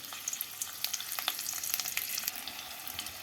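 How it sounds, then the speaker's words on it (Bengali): Two green chillies and half a teaspoon of nigella seeds sizzle in a tablespoon of hot white oil, a close crackling fizz dotted with sharp pops and spits throughout, with no talking. "এবার এই তেলের মধ্যে দিয়ে দেবো দুটো কাঁচা লঙ্কা আর হাফ টিস্পুন কালো জিরে ফোড়ন"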